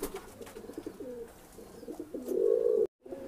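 Lalsare pigeons coo in low, rounded phrases close by, with one longer, louder coo near the end before a brief silence and another call.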